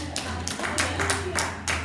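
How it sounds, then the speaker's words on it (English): A congregation claps along at a church service, with several sharp clap bursts in an uneven rhythm over a low background hum. "Come on, clap your hands and celebrate God."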